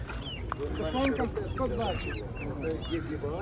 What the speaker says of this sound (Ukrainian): Є ще курочки.